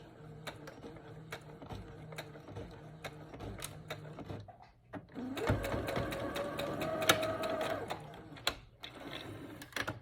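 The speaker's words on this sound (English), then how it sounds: "I'm gonna remove this wonder clip and continue to sew. Make sure you back stitch." A sewing machine stitching a children's braided headband, with short bursts of mechanical clatter, a longer faster run in the middle, and quiet gaps between.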